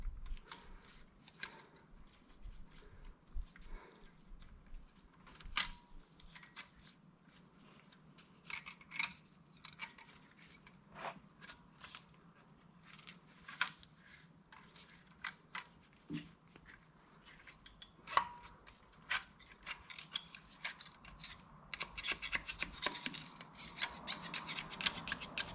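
Split ring being worked back into a W990 truck wheel hub after a seal change, a faint run of scraping, clicking and metallic rubbing taps, sporadic and close, in a quiet shop.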